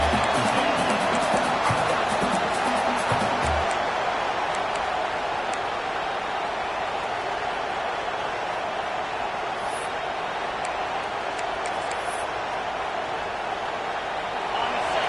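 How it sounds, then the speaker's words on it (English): A fired-up football stadium crowd roars steadily at a Texas A&M versus Texas game, a dense, continuous wash of cheering with scattered claps and whistles, loud and unbroken throughout. "It's early, but this crowd is fired up. Listen to this noise here."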